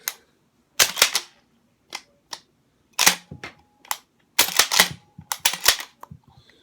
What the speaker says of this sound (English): So I'm just gonna go ahead and do the firing right here.